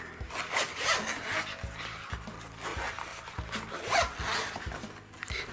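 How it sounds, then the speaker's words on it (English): Repeated zipper pulls open the zippered sections of a multi-page pencil book case, each page holding ten colouring pencils; several rasping zip strokes come close and fairly quiet, with light rubbing of the fabric between them. "like a pencil book, which has a number of zippers depending on which size you ordered"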